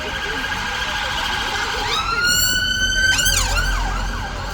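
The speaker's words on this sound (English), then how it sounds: "Notice every other second, sirens." Loud wailing police sirens rise and sweep over a constant rumble of traffic, one tone overlapping another as vehicles pass nearby.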